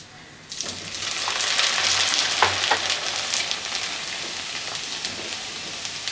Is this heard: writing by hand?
no